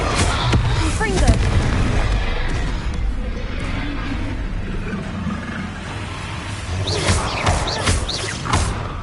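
A Confringo blasting spell going off in Hogwarts Legacy, with heavy thuds and booming impacts amid dense combat noise and voices.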